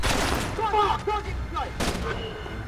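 Shotgun blasts from the stealth action game Splinter Cell Conviction, a loud sharp burst followed by further shots and booming echoes over roughly two seconds, with a background voice partly under the blasts.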